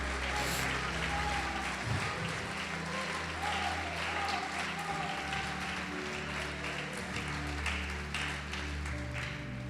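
A church congregation applauding during a sermon, a steady sustained wash of clapping with low music or organ tones underneath and faint voices mixed in.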